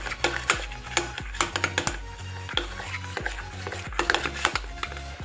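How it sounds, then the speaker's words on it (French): A spoon stirs melted chocolate in a pan for a chocolate cake, giving a run of close, rhythmic scraping and clinking strokes that carry on steadily without any talk. "On va remuer encore un peu."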